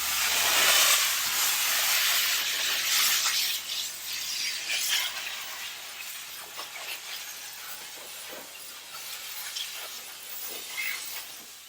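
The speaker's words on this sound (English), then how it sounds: "we should be able to make quick work of this and steam it first, get some of the cracks and crevices with the steam" A Chief Steamer 155 240-volt steam cleaner blasts steam onto the front of a car, a loud, close hiss that starts strong and then continues in softer bursts.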